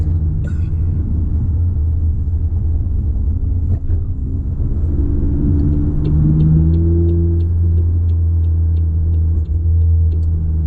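A car is driven on a coffee run, heard from inside as a steady, heavy low rumble of engine and road noise. The engine pitch rises and falls gently and no one speaks.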